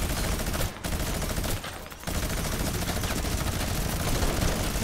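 A minigun fires in a video game as a continuous, dense roaring stream of rapid shots, loud and close, breaking off twice in brief pauses before it resumes and keeps going to the end.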